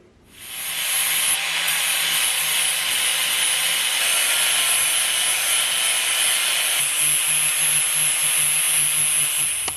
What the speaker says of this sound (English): with the flapper disc, I went ahead and hogged off a lot of material